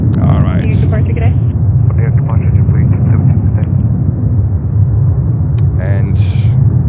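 A JetBlue airliner departs JFK airport in winter with heavy winds, producing a loud, steady low engine rumble that persists throughout, while brief radio chatter cuts in near the start and end.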